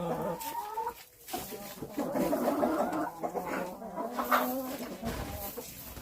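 A rooster crows and clucks close by amid farmyard ambience, with other birds and faint background noise around it.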